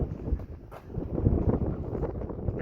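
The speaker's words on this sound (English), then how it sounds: "Pretty windy here today." Steady wind buffets the microphone outdoors at a farm equipment auction, with a low rumbling roar that swells and gusts throughout, no voices present.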